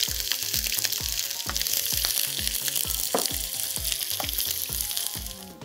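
Fresh onion frying in hot oil in a pan for a Uighur lamb and noodle dish, a steady loud sizzle with regular rhythmic scraping strokes of stirring throughout, no voices.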